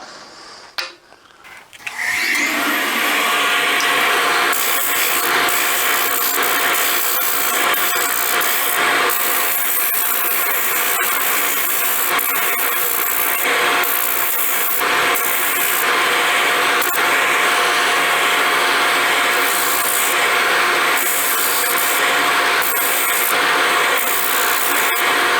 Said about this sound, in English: And now a little oscillating spindle sander work.